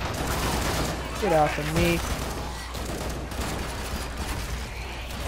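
M4 rifle fire in the video game Killing Floor 2, a dense, steady fusillade of gunshots running through the whole stretch, with a voice cutting in briefly near the start.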